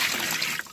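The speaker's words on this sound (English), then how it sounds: "So if we put water in here now, what actually happens?" Water poured into a boat's drain, a short, close splashing trickle that gurgles and fades out at the end.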